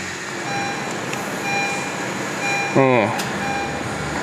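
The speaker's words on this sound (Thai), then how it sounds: "ผมลองสตาร์ทนิดนึง นี่ระบบพุทสตาร์ทแล้ว" A 2017 Honda HR-V 1.8E Limited with automatic gearbox starts by push button, giving a brief rising starter whine near the end over a steady cabin background, with someone talking throughout.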